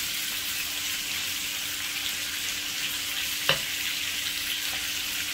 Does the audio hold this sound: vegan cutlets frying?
yes